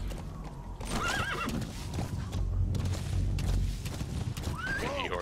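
A horse in the video game Metal Gear Solid V neighs and whinnies twice, loud and close, over a steady rumble of galloping hooves and game noise.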